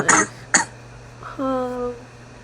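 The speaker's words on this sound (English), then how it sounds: "My bad for coughing so much." Two sharp coughs close together, then a short pause and a brief hummed voiced sound; near and fairly loud.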